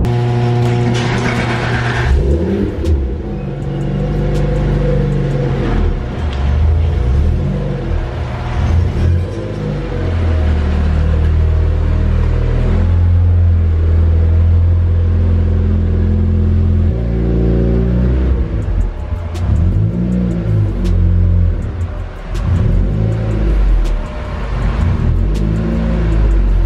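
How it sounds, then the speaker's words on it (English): A Lotus sports car engine warming up, with a loud, steady, close rumbling idle and repeated revs rising and falling throughout; nobody talks. "I just had to move my car a little bit, just giving it a little warm up."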